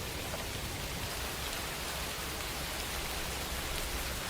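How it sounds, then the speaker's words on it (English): Steady rain falling as background ambience for bedtime stories, an even hiss of drops on a surface, continuous and moderately soft with no voices. "Let the rain play into the background."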